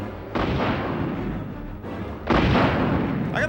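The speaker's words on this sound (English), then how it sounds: "I gotta fire one rocket for each zombie?" Rocket launcher fire in the Resident Evil 3 video game: two heavy booming blasts about two seconds apart, loud and close, each trailing off into a rumbling roar.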